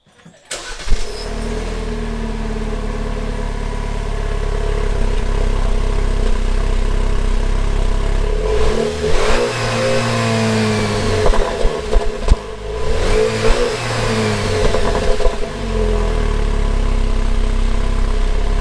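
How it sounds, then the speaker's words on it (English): A stock-exhaust 2.0 turbo Jeep Wrangler JL cranks and fires, settles into a steady idle, then revs twice in rising and falling sweeps with slight turbo spool, loud and close with no talking. "we're going to start the Jeep up stock and get a factory, like comparison right now"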